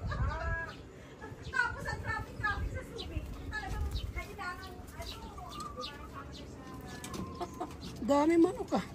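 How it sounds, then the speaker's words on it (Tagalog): Chickens cluck and squawk repeatedly at close range in Baguio while people talk over them. "Dami manok ah."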